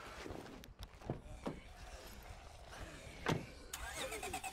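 In the video game State of Decay 2, a car engine turns over and settles into a low idle, mixed with a few soft thumps and brief speech.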